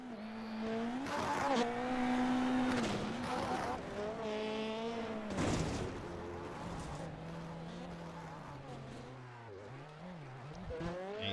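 Race car engines in a video game whine and rev in the background, pitch sliding up and down as cars accelerate and pass, with talk layered over them.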